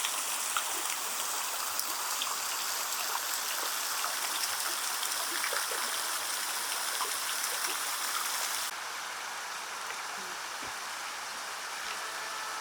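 A small waterfall stream in Italy flows steadily in a dense, hissing wash of falling water, heard alone without voices, dropping slightly in level partway through.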